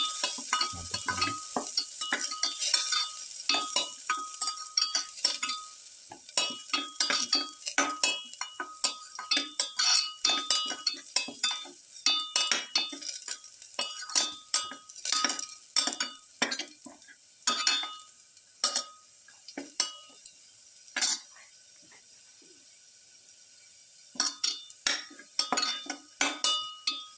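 Garlic sautéing in a pan, with a steady sizzle under repeated clinks and scrapes of a utensil stirring against the metal, rhythmic and close, with a brief quieter stretch near the end.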